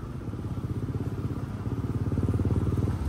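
A motorcycle fitted with a changed silencer runs close by with a steady, pulsing thump that grows a little louder and quicker toward the end, with no voices.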